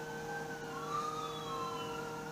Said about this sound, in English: You're going to run into lots of loud sirens.